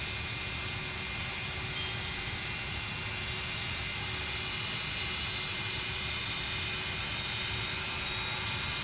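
MD-80 jet engine spooling up during startup in a flight simulator game, a steady broadband roar with a high whine, continuous and even throughout with no talk.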